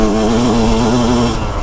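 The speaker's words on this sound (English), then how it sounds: "twist that throttle" A dirt bike engine holds a steady, loud rev with a strong buzzing drone as the throttle is twisted, sustained for over a second before easing slightly near the end.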